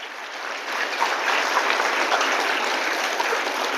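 An audience claps steadily through a Kriya Yoga awareness program at Jindal College in Bangalore, a dense continuous patter of many hands in a hall, swelling slightly and holding loud.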